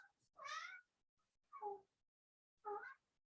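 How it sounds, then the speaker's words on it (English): A house cat meows three times in a quiet room, each cry short and clear, with pauses of about a second between them. "Can you guys hear my cat?"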